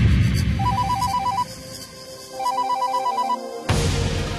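A phone rings for an outgoing call: two bursts of a repeating electronic ringtone warble, loud and close, with a short gap between them before the line cuts off into noise.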